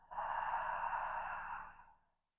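A long, deep exhale during restorative yoga breathing, one steady breathy rush lasting about two seconds that fades out at the end, close and fairly soft with no talking.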